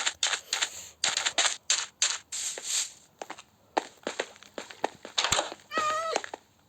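A cat meows once in a video game near the end, after a run of quick footstep-like taps and clicks.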